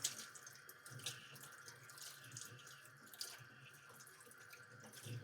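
Tap water runs steadily into a sink while squid tentacle rings are rinsed, a soft continuous hiss and splash with small irregular splashes, faint and close.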